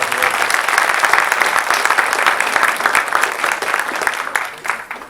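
Audience at a Caddo Parish public schools ceremony applauds a student's parents, family and friends as they stand: dense, steady clapping from a crowd filling the room, holding loud for several seconds before thinning slightly at the end.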